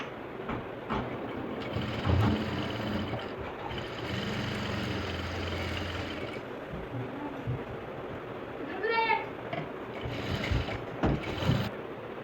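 A sewing machine stitches a blouse, its motor whirring in an even mechanical run with faint clicks and a short squeaky whine partway through.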